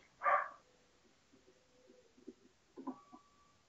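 A single dog barks once sharply in the background of an otherwise quiet room, followed by faint muffled sounds and a second softer bark-like burst near the end.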